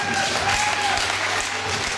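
A concert audience applauds, a dense, steady roar of many hands clapping at once that holds evenly loud from start to finish, with no talk over it.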